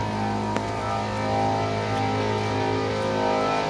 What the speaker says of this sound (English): here's some air conditioners at a condo complex